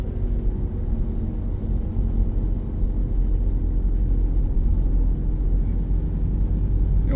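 A steady, low droning hum comes from the worn front axles of a Subaru driven at about 40 on smooth pavement, continuous and even like a distant propeller plane, with no talk.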